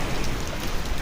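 Heavy rain pouring down near the coast at night, a loud, dense, steady hiss of drops with no talk, alone and uninterrupted.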